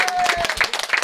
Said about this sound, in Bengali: ভাই হাত তালি দাও